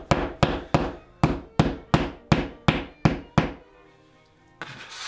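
About ten sharp hammer blows drive popped nails into drywall in a quick, steady rhythm, each ringing with a woody thunk, followed by a brief pause and a faint noise at the end.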